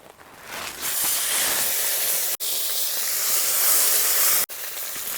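Ginger and cumin paste hits hot mustard oil already spiced with cloves, cardamom and cinnamon, bursting into a loud, close, steady hissing sizzle after a quiet second, broken by two brief dropouts.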